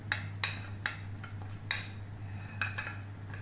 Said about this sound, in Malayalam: പച്ചമുളക് ഇട്ട് കൊടുത്തു